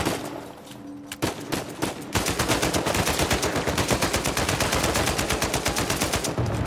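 Video game gunfire in Uncharted 4: a couple of isolated shots at first, then a sustained rapid stream of loud automatic fire that keeps going to the end.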